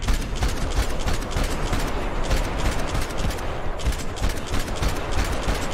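Sustained, loud gunfire from a Max Payne 3 firefight, with dense rapid shots and bursts overlapping continuously, close and chaotic with no pauses.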